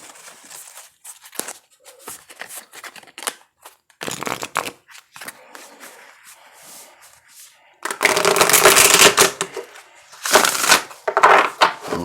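Tarot cards riffled and shuffled repeatedly in bursts, close up, with brief pauses between shuffles and a louder flurry near the end.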